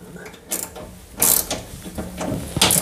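A ratcheting wrench tightens nuts on anchor bolts while a safe is secured in place, with short bursts of metallic clicking and clattering separated by brief pauses, close by.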